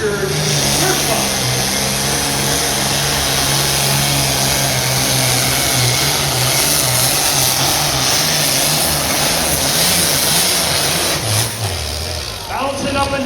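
A loud, steady engine roar from a John Deere pulling tractor at a county fair tractor pull, droning continuously with crowd noise and an announcer's voice underneath.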